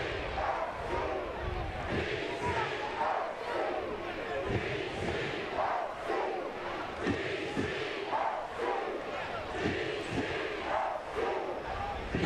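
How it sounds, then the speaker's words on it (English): Detroit City FC fans chanting together in a stadium, a loud rhythmic crowd roar with pulsing shouted beats across the whole stretch. "the family side of the stadium is with the Yep. DCFC chant that happens about 25 minutes into each half"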